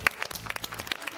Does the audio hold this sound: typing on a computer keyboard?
no